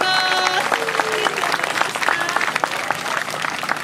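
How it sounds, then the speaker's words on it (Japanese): An outdoor audience at Osaka Castle claps heartily for former Takarazuka Revue and OSK Nippon Revue dancers after a stage performance, the dense applause close and steady while a voice briefly calls out over it. "宝塚歌劇団 OG、 そして OSK 日本歌劇団 OG の皆さんにどうぞ大きな拍手をお願いします"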